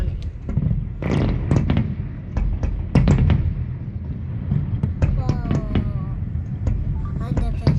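Fireworks bursting near a bridge, a series of sharp irregular pops and booms under wind noise, with people talking nearby.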